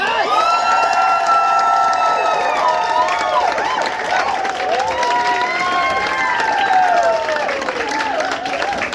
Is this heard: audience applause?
yes